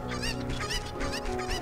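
Cuckoo chickens in Zelda: Ocarina of Time squawking in a dense, overlapping burst of honking clucks, loud and continuous over game music.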